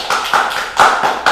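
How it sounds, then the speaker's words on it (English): Hand claps at the close of a live talk show, a few loud, sharp slaps spaced unevenly, close and alone. "Claps."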